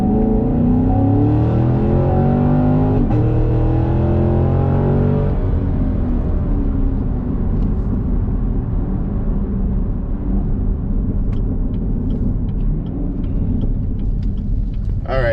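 A Camaro SS with traction control switched off accelerates hard, its loud V8 roar rising steadily in pitch through a gear and then settling into a heavy, continuous rumble, close and dominant.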